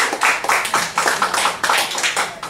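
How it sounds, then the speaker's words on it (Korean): Audience at a Busan... no—a cultural talk concert in Bucheon claps for a guest, a dense run of hand claps filling the room, fairly loud and steady for a couple of seconds with no voices over it. "여러분 좀 박수 좀 쳐주세요"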